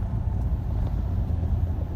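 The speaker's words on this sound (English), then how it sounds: "We got traffic, LA." Road traffic in Los Angeles, a low continuous rumble of passing cars heard from nearby, moderately quiet and steady with no voices.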